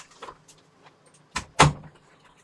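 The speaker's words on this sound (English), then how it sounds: "I'll just close this door." A room door swung shut indoors, with a couple of soft handling knocks before a firm, close latch thud, then quiet.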